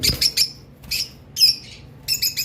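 Lovebirds on a farm give short shrill chirps in small clusters, close and sharp, separated by brief pauses.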